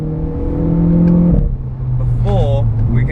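A Renault Clio R.S. cruises a closed racetrack on a sighting lap, its engine holding a steady drone that drops in pitch partway through, with a person talking over it throughout.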